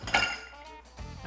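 A single ice cube drops into a whiskey highball glass with a sharp, close clink followed by a short ringing decay and a faint second knock, no talking.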